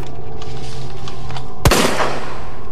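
A single loud gunshot in the video game Resident Evil 2 cracks sharply out of a low background hum and leaves a brief fading tail.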